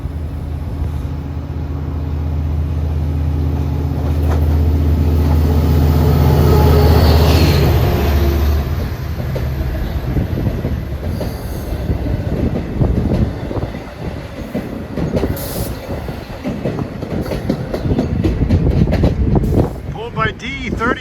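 Train 2712 rumbles in from Hunters Point Avenue toward Montauk through thickening fog, a heavy low roar that swells as it nears and then gives way to rattling wheels, with gusty wind buffeting throughout.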